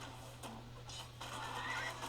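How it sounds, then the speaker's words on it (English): Horses neigh and whinny repeatedly amid a medieval Age of Empires 4 battle near a fortress as mangonels cut them down; the cries overlap continuously over a dense, steady din of combat. "Oh, many horses are wailing."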